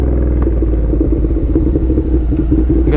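A Suzuki SV650 motorcycle fitted with an Austin Racing exhaust and a cat delete idles close by, with a steady, lumpy, uneven V-twin burble and no voices.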